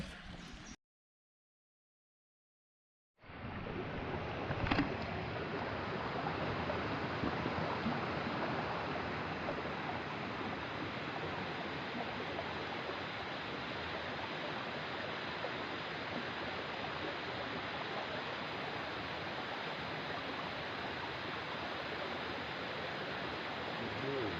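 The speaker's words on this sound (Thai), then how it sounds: "ลำธารอยู่ข้างล่าง" A stream flows below a camp at Ban Krang, a butterfly-watching spot, giving a steady broadband rush of water that starts after a brief silent gap and holds evenly throughout.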